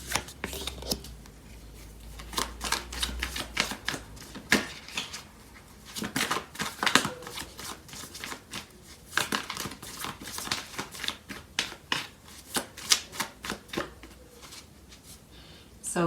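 Tarot cards are shuffled by hand to draw clarifier cards during a love reading. Close, uneven bursts of riffling and tapping continue throughout, with a voice speaking softly at times.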